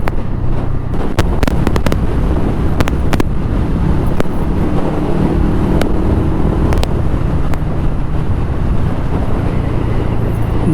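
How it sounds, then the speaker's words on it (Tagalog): Strong gusty wind ahead of a typhoon batters a car driving on a slippery road, a constant heavy roar in the foreground punctuated by sharp buffeting thumps against the microphone. "Mahangin yun eh."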